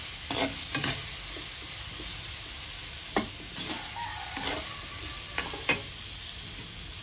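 Chopped onions for caldereta fry in a pan, a steady close sizzle broken by several scraping stirs of a spoon across the pan at irregular intervals, with no voices.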